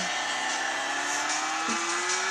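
A motorcycle racing video game engine drones loudly and steadily throughout, with a faint tonal whine rising slowly and a brief blip near the end. No distinct crash stands out.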